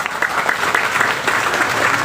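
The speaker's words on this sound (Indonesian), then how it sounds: "Tepuk tangan buat beliau." An audience applauds in a steady, dense burst of clapping at a formal gathering, loud and continuous throughout.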